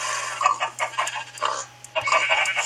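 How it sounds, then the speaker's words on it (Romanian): Roosters and hens on a farm in the video game Minicraft, clucking in quick bursts of close, clear calls set against a low steady hum. "Aici sunt cocoși."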